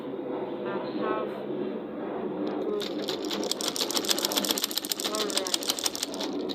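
A sewing machine stitches folded wool fabric for a short gown, running in a rapid, steady rhythm of needle strokes that picks up partway through over a constant background hum.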